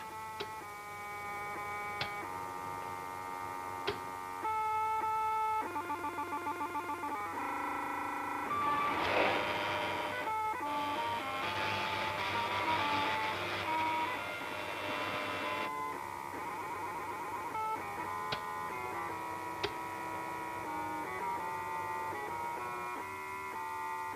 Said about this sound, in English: After a few seconds counting, the machine makes a move.